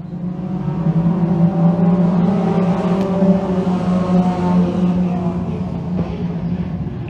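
Thundercar race cars accelerating together at the green-flag start of a feature race, a dense, steady engine roar with sustained droning tones, loud and continuous throughout.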